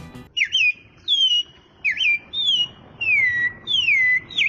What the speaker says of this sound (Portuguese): Os passarinhos começavam a cantar